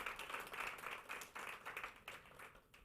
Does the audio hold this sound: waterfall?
no